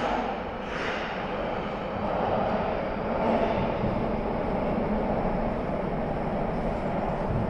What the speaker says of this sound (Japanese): 名古屋の市営地下鉄です。